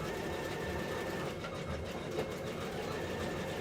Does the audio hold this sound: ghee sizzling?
no